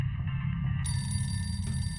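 A telephone rings in the horror game The Mortuary Assistant, a steady electronic ring that starts just before the one-second mark and carries on to the end over a low ambient hum, with no talking.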